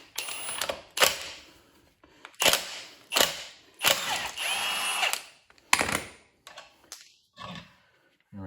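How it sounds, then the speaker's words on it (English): A ratchet loosens the 21 mm top nut on a Mustang's strut top mount during suspension work, giving repeated short bursts of close, metallic clicking separated by brief pauses. "So we can go ahead and pull this nut off and not have to worry."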